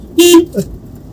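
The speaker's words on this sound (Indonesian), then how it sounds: "Suara klakson." A car horn gives one short, loud honk, followed a moment later by a brief fainter sound, with no talk over it.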